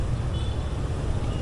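Road traffic rumbles on a steep downhill street, a dense, steady low roar of engines that fills the whole short stretch with no clear horn or voice standing out.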